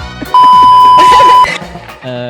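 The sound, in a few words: censor beep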